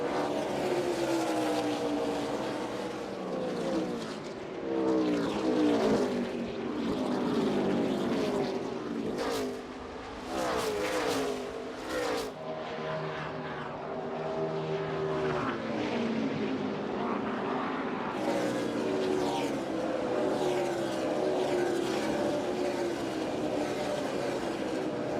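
NASCAR Xfinity race cars roaring around Iowa Speedway, a dense, continuous engine drone with pitch sweeps as cars pass, loud and sustained with no talk.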